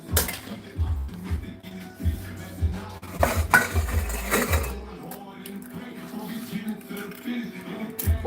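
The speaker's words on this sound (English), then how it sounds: "Chopping up some spinach." A knife chopping spinach on a cutting board, giving quick rhythmic knocking thuds in bursts over the first five seconds, followed by quieter handling noises, with a person speaking nearby.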